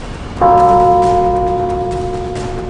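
A single bell strike rings out clearly and loudly, its metallic tone lingering and slowly fading over a couple of seconds.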